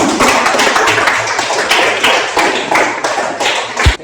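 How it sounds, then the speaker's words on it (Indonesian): A classroom of students claps for a group, a dense, steady patter of many hands that fills the room, with a single thump near the end. "Mari tepuk tangan untuk kelompok 1."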